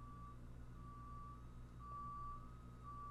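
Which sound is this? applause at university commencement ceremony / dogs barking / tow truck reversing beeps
tow truck reversing beeps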